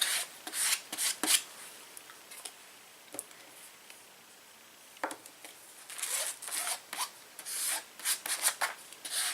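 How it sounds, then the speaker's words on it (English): Mixed media paint from a budget Artist Loft set is scraped across a Bible journaling page, a dry rasping rub that comes in uneven close strokes, with clusters near the start and end and a quieter stretch between them. "This is just called paint scraping."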